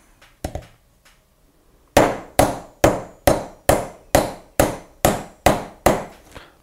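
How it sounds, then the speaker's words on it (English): A metal hammer tapping a Harris bipod foot adapter into place: two light initial taps, a pause, then a steady run of about eleven sharp, evenly spaced metallic strikes close up. "lightly tap that bad boy in there."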